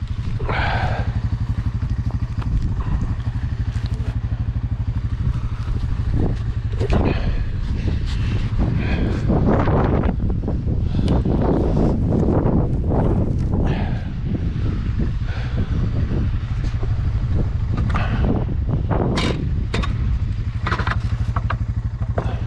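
Strong outdoor wind buffets the microphone at a drone training ground, a constant roaring rumble with gusts and clattering bursts throughout.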